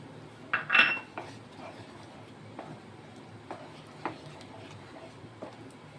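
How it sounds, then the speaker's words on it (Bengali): Metal spoon scraping and tapping in a pan while stirring a sweet-spicy cashew and potato curry (alur dom) with green chilli and tomato, a few clinks up close early on, then sparse light taps at a steady pace. "তাই জন্য সমানে এটাকে নেড়ে যেতে হবে"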